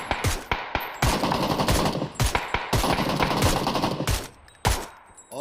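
Automatic rifle fire from the online shooter game PUBG rattles in loud, close bursts of rapid shots with brief gaps between volleys and no talking.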